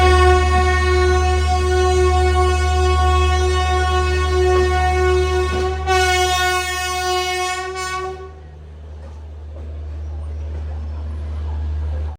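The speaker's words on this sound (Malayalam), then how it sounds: "ട്രെയിൻ ഇതാ മുംബൈയിലെ ലോകമാന്യത്തിലേക്ക് ടെർമിനസ് റെയിൽവേ സ്റ്റേഷനിലേക്ക് എത്തിക്കൊണ്ടിരിക്കുകയാണ്" Loud, sustained horn blasts from the Netravati Express as it nears Lokmanya Tilak Terminus in Mumbai. The horn runs for about eight seconds and is cut off, then the train's rumble carries on quieter and rises again at the end.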